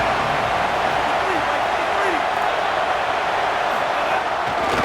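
A stadium crowd in the CFB 27 college football video game, Miami versus USC, roars as a dense, steady wash of cheering at a constant loud level, with a few faint voice-like swoops inside it.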